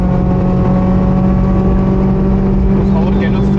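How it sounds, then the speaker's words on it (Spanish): A Toyota Celica driven flat out on a race circuit gives a loud, sustained engine drone at full throttle, with steady tonal harmonics throughout and a voice talking over it. "yo estoy yendo a fondo a todo lo que puede dar el coche"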